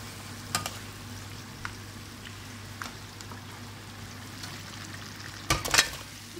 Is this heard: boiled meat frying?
yes